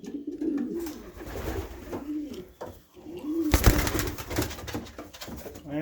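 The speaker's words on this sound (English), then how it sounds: "Beautiful silver bird." Silver pigeons coo from a loft during a flight session, with repeated soft, low throaty calls close by and a louder rustling burst near the end.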